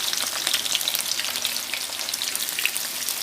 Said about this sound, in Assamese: অকণমান ৰঙচুৱাকৈ ভাজি ল'ম পিঁয়াজখিনি